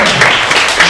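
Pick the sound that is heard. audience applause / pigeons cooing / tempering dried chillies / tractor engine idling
audience applause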